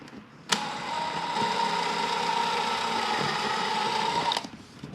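A power drill bores screw holes through motorcycle leather for a speaker mount on a Kawasaki Voyager VN1700, one steady slow whirring run of about four seconds starting and stopping abruptly, close and alone.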